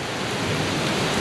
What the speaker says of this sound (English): Rain blowing down the street.